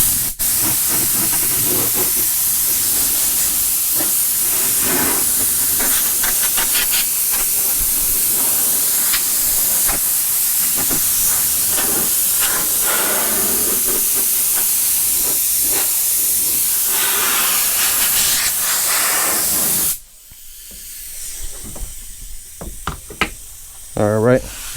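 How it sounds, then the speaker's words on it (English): Air blow hose clearing dust off the roof of a 1987 Chevy Caprice LS Brougham during a panoramic sunroof install, a loud, steady hiss lasting about twenty seconds before stopping abruptly, with knocks, handling noise and some talking mixed in. "I take my blow hose, I got it here. I blow all this dust up off of it."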